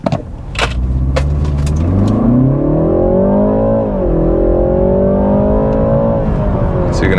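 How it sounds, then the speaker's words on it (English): A 2021 BMW 330i with standard exhaust accelerates hard from a launch in sport mode, its engine note rising steadily through the revs, easing at a shift and then climbing again, loud and close. "So you can actually hear the noise. It makes actually pretty nice noise, even for like a standard car and standard exhaust."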